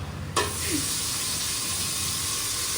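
Tomato and ginger-garlic paste drop into hot oil in a pot for mandi biryani, setting off a sudden loud sizzle that settles into a steady, close hiss.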